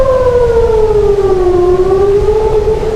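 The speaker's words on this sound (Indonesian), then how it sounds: "sirine serangan udara berbunyi di penjuru Tel Aviv" A loud air raid siren wails steadily across Tel Aviv during an Iranian missile attack, its pitch slowly dipping and rising, sustained throughout with no voices.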